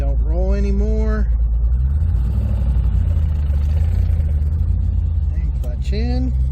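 A 2002 Camaro SS rolls downhill with the clutch in, giving a steady low rumble and road noise from inside the car, with a person talking briefly at the start and end.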